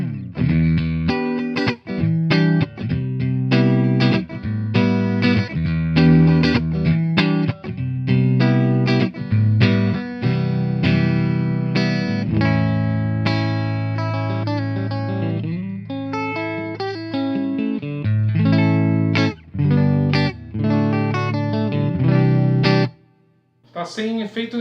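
A Fender guitar played through a Marshall MG100DFX combo amp on its clean channel with a little digital reverb, strummed chords and picked notes ringing loud and continuous, with short pauses between phrases.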